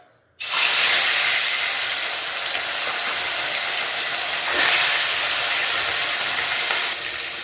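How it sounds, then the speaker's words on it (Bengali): Fish drops into hot oil and bursts into a loud, sudden sizzle that settles into a steady, close spitting hiss, swelling briefly midway and continuing without talk. "তেলটা গরম হয়ে গেছে, মাছটা ভাজতে বসিয়ে দেবো।"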